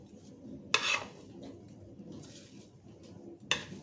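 Cake batter for a blackberry cake with honey being stirred by hand in a bowl, two short bright scraping strokes against the bowl sides over a low steady background, fairly close.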